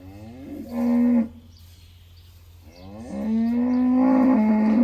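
Dairy cattle on a farm where calves are separated from their mothers give two long, loud, close moos with a short pause between them.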